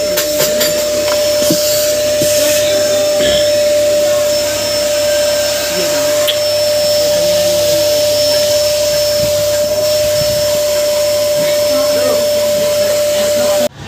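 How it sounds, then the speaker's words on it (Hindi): A household vacuum cleaner runs steadily and close by, its constant whine and airflow roar continuing for the whole stretch with a few small knocks and shifts as it cleans. "ये देखो गाइस ये वैक्यूम क्लीनर सफाई हो रही है"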